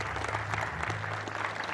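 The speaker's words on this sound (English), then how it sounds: "Let's have a big round of applause." Applause from an auditorium audience at a Dialogue with Erik Solheim event, a steady dense patter of many hands with a low steady hum beneath, brief and moderately loud.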